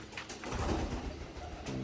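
Pigeons just released from a loft: a few soft, throaty coos close by, repeating in a low rolling rhythm over a short moment with no talking.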